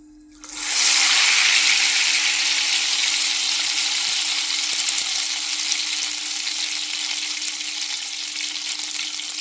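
Ghevar batter poured into hot oil on a high flame bursts into a loud, dense, steady sizzle and bubbling that starts abruptly and holds close and constant to the end.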